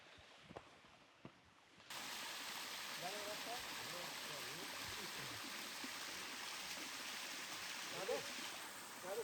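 Water rushes steadily around a rock in a forest, a dense broadband wash that sets in after a couple of seconds of quieter ambience with a few faint knocks, continuing close and loud to the end.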